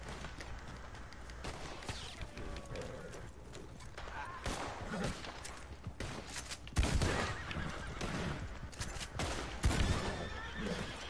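Horse whinnying in Red Dead Redemption 2 on PS4 after being shot, a loud neigh rising over game noise and sharp bangs, with people talking throughout.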